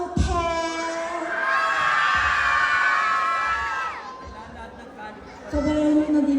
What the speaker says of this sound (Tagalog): Wala po bang hiyawan ng kaunti?